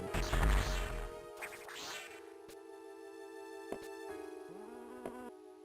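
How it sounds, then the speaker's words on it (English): Enemies in the Metroid Fusion video game make a buzzing, bee-like drone: warbling, harmonic electronic tones that rise and waver, with a few sharp clicks, heard on their own at moderate level. "Tell me these guys do not sound exactly like the bees that rev up in the hive in Hollow Knight."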